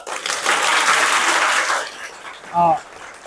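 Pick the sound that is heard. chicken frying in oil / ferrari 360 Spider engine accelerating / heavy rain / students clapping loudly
students clapping loudly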